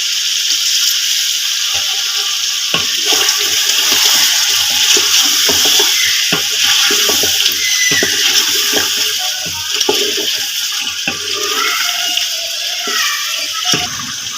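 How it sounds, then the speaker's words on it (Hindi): Steady splashing and trickling of water being poured into a pot of biryani masala, continuous and fairly loud, with faint kitchen clatter and sizzling beneath. "थोड़ा सा पानी डालें।"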